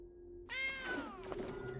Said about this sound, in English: The meow every time too.